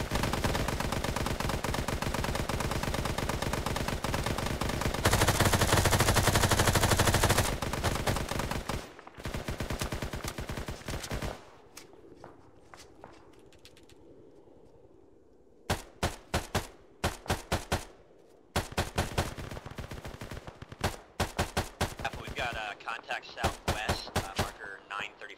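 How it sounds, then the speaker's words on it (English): Gunfire in the military video game Arma 3 during a team battle: long sustained automatic bursts, then a quieter lull and sharp separate shots and short volleys, loud and near, with voices talking over parts of it. "watch out, southwest, we're getting incoming fire"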